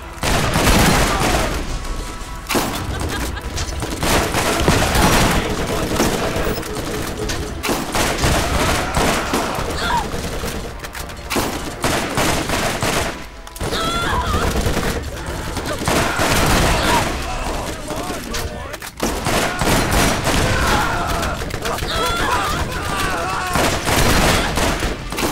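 Dense, nearly nonstop gunfire fills a Borderlands 3 co-op firefight, with rapid automatic bursts, booming shots and explosions layered close and loud, broken only by brief gaps.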